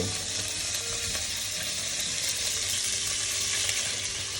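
Undrained spaghettoni go straight from their cooking water into a pan with guanciale for carbonara, making a loud, steady sizzle and bubbling hiss that holds for the whole stretch with no talking.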